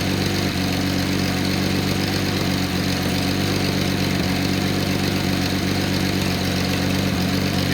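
A Nissan 280ZX L28 engine idles on a test stand, a steady, loud, even drone that holds unchanged throughout with no voices.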